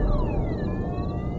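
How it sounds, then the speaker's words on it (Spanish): A car alarm wails nearby with loud, continuous sweeping electronic tones that rise and fall without a break. "La segunda vez que sonó la alarma del coche"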